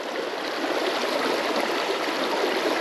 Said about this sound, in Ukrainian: Дуже швидка вода.